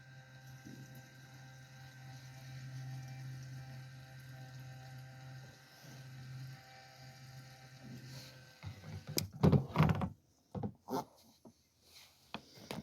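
A Harbor Freight battery-operated liquid transfer pump hums steadily at close range, then cuts off abruptly, followed by a few loud clunks and knocks as it is handled.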